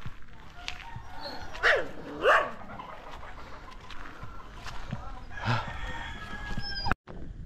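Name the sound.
roosters fighting and crowing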